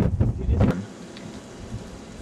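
A strong wind gust roars through a Connecticut winter snowstorm, loud and blustery in the opening second before easing to a steadier, quieter rush of wind noise buffeting the microphone.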